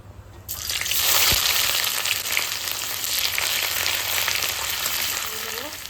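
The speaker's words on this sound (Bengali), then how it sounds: "এবার আমি পেঁয়াজটা দিয়ে দেবো" Onions drop into hot oil in a pan and burst into loud, steady frying and sizzling, close by, with faint stirring, for a Bengali dish of split chickpea paste and chicken mince fritters.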